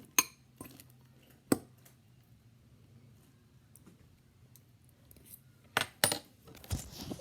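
Microwaved eggs in a dish get stirred, with a few sharp clinks and scrapes of a utensil against the dish in separate bursts at the start and near the end, over quiet background hum.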